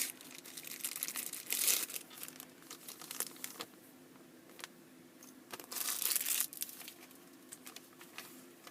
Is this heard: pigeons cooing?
no